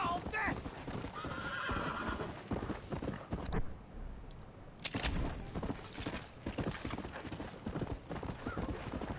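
In Red Dead Redemption, a horse's hooves clip-clop rhythmically at speed and it lets out a neigh. Game sounds continue around the hooves, and a voice talks over them.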